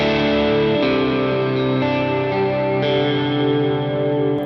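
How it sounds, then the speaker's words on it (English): An electric guitar plays through a Boss Katana amp with modulated reverb set to high density, sustained chords and notes blooming into a thick, shimmering wash, loud and continuous with no talking. "density is how dense you want the reverb, so let's bring it back to 0. And let's take it up to 10."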